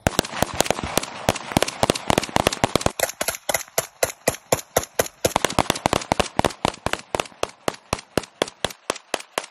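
Rapid bursts of gunfire crack out nonstop, dozens of sharp reports in quick succession, loud and close, at times clustered like automatic fire, with no talking.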